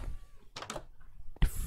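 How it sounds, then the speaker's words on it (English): Cats meow a few times in a video game, short and fairly close, with brief gaps and some background noise between the calls. "Kitty cat."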